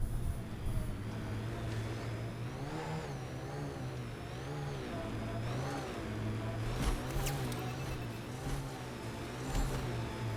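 The Nomad rover's engine from Mass Effect Andromeda drives steadily with a droning mid-range hum that rises and falls as it revs, holding a continuous level with occasional light bumps and clatter.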